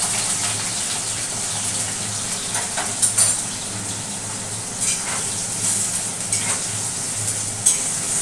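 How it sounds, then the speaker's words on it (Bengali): Potatoes frying in a pan give off a steady, loud sizzling hiss, with a few soft stirring scrapes and no voices. "এবার আলুগুলো একটু ভেজে নেব।"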